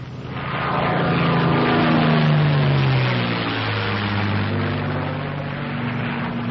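A North American P-51 Mustang pulled into an accelerated stall gives a loud, close propeller-engine roar that swells over the first seconds and then drops in pitch as the load comes on, easing to a steady drone.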